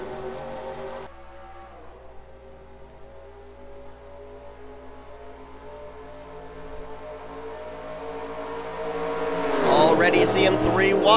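Race cars roar around Daytona in a Skittles Super Speedway Series racing game, a steady layered engine drone that builds toward the end with a loud rush of cars close by.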